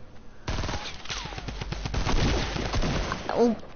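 Sniper and automatic gunfire in a video game, a burst of rapid loud shots starting abruptly, with a voice exclaiming over the firing near the end.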